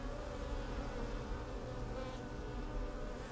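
Dense, steady buzzing of aggressive native black bees adapted to the harsh Scottish climate, a continuous hum of many insects heard close and unbroken with no voices.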